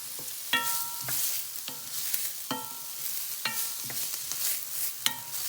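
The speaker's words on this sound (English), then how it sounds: "So now I'm going to saute my peppers and onions." Baby bell peppers and onions sauteing in a pan, a soft steady sizzle broken by several sharp scraping stirs of a utensil against the pan, close and without talk.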